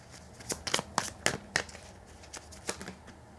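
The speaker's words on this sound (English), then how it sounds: "I am shuffling, by the way." Tarot cards being shuffled by hand, a run of quick, crisp riffling bursts close up, then a few softer flicks, with no talk.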